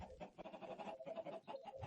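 Chickens clucking in the video game Minecraft on an egg and meat farm, a short run of repeated, fairly faint clucks in quick rhythm.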